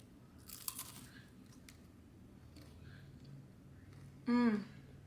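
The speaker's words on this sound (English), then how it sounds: "I'm gonna try it, see if it's as good as it was yesterday." A single loud crunch of biting into crunchy day-old pizza, close up, after a few quieter mouth and handling noises.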